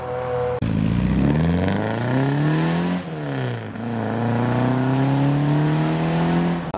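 An Alpina pulling away from a classic car show, its engine revving up through rising gear pulls, dipping briefly between shifts before climbing again, loud and close.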